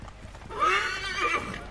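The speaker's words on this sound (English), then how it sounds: "Why would you come in front of the horse?" A horse in Assassin's Creed gives a loud, close whinny that rises and falls over about a second, with faint hoof clatter before it.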